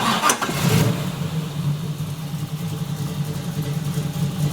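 A 1968 Chevrolet Camaro engine cranks and fires up, then settles into a loud, deep, steady rumbling idle through an unmuffled open exhaust.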